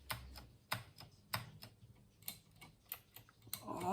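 Keys clatter on a rebuilt VIC 20 computer keyboard in sparse, separate bursts of clicky strokes, close and fairly quiet, with no talking.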